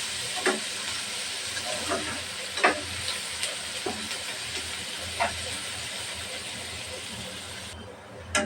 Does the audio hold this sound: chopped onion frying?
yes